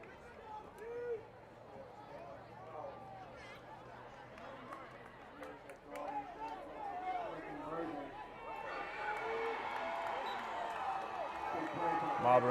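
A high school varsity football crowd murmurs and chatters in the stands while the student section tries to get cheering going, building louder toward the end with some clapping and shouts.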